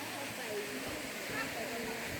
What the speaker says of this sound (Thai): ฉากหลังเป็นน้ำตกเนาะ